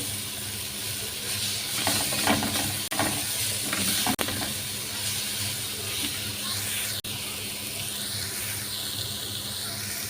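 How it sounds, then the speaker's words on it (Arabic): Garlic frying in a pan for a vinegar-and-garlic eggplant moussaka, a steady close sizzling hiss broken by a few brief clicks and faint stirring. "هبتدي احمر التومه"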